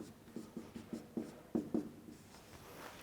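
Chalk or marker strokes of an equation being written on a board during a signals and systems lecture, a rapid series of scratchy taps followed by a couple of longer strokes, fairly faint against room tone.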